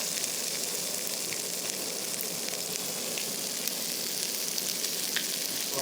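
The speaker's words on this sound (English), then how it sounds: "you can see our fish is just resting in the pan" A fish fillet resting in a hot pan, an even, dense sizzle and crackle that holds steady throughout, no talking.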